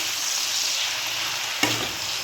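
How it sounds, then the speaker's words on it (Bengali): Potatoes and onions fry together in a pan with a constant close sizzle, broken once by a brief knock or scrape of stirring partway through. "আলুটাকেও পেঁয়াজের সঙ্গে একটু ভালো ভালো করে ভেজে নেবো।"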